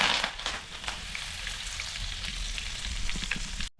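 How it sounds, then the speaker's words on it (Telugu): Curry leaves hitting hot oil in a pan while cooking a chicken leg piece fry, producing a bright, crackling sizzle that holds steady and close for a few seconds with no voices. "ఫ్రెండ్స్, ఇప్పుడు కొంచెం కరివేపాకు కూడా వేసుకోవాలి"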